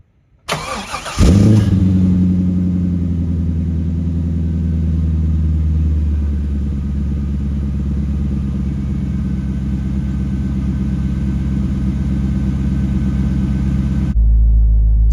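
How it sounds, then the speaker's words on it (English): A Chevrolet Corvette with an LS1 V8 and a new aftermarket exhaust cold-starts up close: a brief crank, then a loud bark settling into a steady, deep rumbling high idle that holds for the rest of the clip. "You're about to hear the First cold start of my LS1 with its new exhaust"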